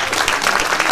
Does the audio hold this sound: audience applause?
yes